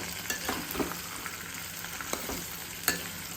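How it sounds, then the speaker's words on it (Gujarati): Green cowpeas sauté in oil with a constant gentle sizzle, punctuated by several spoon-stirring scrapes and clinks close by, one sharper knock near the end. "હવે આપણે થોડી વાર તેલમાં સાતળી લઈશું."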